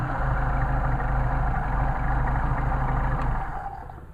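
A Mercedes 190SL fitted with Solex carburetors idles with a steady, even mechanical drone, then cuts off and fades in the last moments, with no talking.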